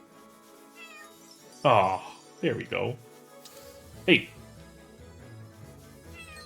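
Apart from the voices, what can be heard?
cat meowing in the video game Chained Echoes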